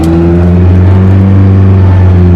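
A McLaren P1 GTR race car's engine roars loud and close, a steady high-pitched drone with strong harmonics sustained throughout, climbing slightly as it accelerates, with no talk.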